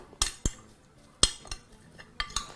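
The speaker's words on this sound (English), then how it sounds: "using a spoon, we're just going to mix those up" Metal spoon working through a potato mixture in a bowl, giving a few sharp, close clinks and scrapes against the bowl at irregular intervals, spaced by quiet pauses.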